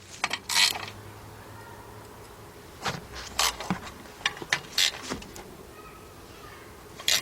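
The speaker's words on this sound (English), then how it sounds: "So let's get our 3/8 drive ratchet, 10mm deep 3/8 drive." A 3/8 drive ratchet with a 10mm deep socket clicks in short, separate bursts while loosening bolts on a 2004 Chevy Monte Carlo 3.4 engine, close and fairly quiet with pauses between.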